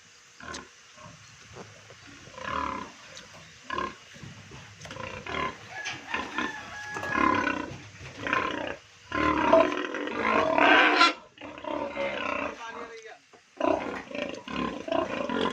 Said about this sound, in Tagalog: humuhugong pa, yung baboy mo